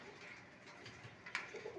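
White pigeons coo softly in a loft, a low, faint murmuring with a brief sharper sound near the end and no talking.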